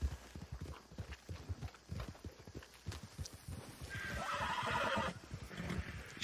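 A horse in Red Dead Redemption 2 Online neighs and whinnies amid steady clip-clopping hooves as it walks, fairly faint and close, with no talk.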